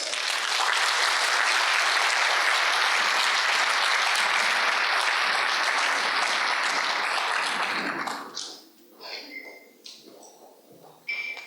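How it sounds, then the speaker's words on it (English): Applause from the audience at an interfaith iftar gathering, sustained dense clapping for several seconds that then thins out and fades as a voice begins to speak. "I would love it if you all gave a big round of applause for him."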